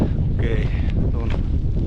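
Wind from the north rumbles heavily against the microphone near a crater in Iceland, with a few faint, indistinct vocal sounds mixed in.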